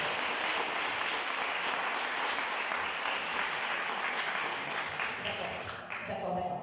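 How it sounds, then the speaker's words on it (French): An audience at a school presentation event breaks into dense, steady applause that stays loud and continuous throughout, easing slightly near the end. "on peut les applaudir."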